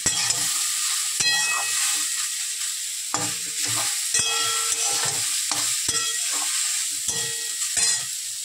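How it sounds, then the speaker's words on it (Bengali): Eggplant fries in a hot pan, steady sizzle under repeated scraping and clinking of a spatula stirring it; no voices. "দিয়ে দেবো বেগুন। নাড়াচাড়া করে জল ঢেলে দেবো।"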